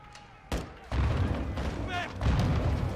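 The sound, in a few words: grenade explosions in the Call of Duty Modern Warfare 2 video game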